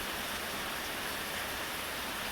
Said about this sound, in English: I'm just sitting there watching the water,